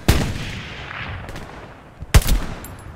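Two sharp gunshots from the Hell Let Loose video game crack out about two seconds apart, each followed by a short echoing tail, loud and close, with quieter ambience between them.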